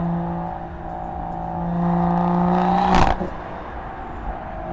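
A 500 hp BMW M140i with a B58 engine and miked exhaust, driving at sunset in London: a loud steady exhaust drone that rises as the car accelerates, peaks with a sharp crackle, then settles back to cruising.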